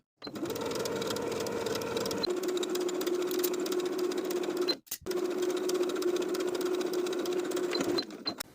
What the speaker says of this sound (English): edge stitch close to the bottom inner fold of the bias tape with about 1/8 of an inch seam allowance all the way around the neckline